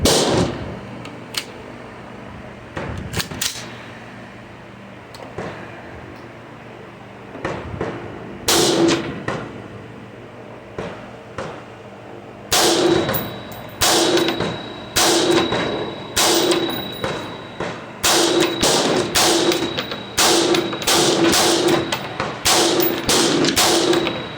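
A 5.56 rifle with a 16-inch chrome-lined barrel fires at steel targets 50 yards away, sparse shots at first, then rapid strings of sharp cracks each followed by a ringing metallic clang.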